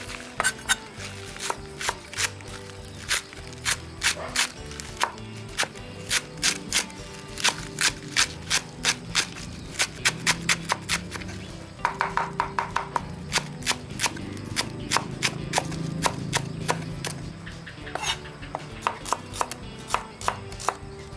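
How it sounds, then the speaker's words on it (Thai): Rapid knife chopping of vegetables and shallots on a cutting board, dense rhythmic chops in bursts with brief pauses, close and fairly loud, with no talking. "เดี๋ยวมาหั่นผักกันก่อน"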